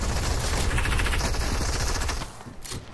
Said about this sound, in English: I thought that was you shooting.